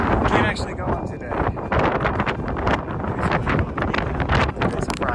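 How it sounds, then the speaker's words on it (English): Wind buffets a microphone on the summit at New Jersey's highest point, a loud, continuous rumbling roar with gusty swells, with a voice faintly under it. "It's kind of windy up here."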